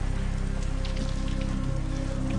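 Steady rain patters on a surface with a constant hiss, close and even, with no voices.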